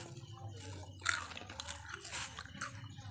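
Someone eating crunchy puffed rice (muri) at home, with a few close, crisp bites and steady chewing crunches over a low background hum.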